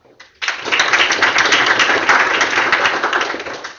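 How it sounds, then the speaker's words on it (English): Audience applause at a tech talk welcoming a speaker, a dense, steady burst of many hands clapping that starts abruptly, holds loud and even, then begins to fade near the end. "Please give a round of applause for Bas"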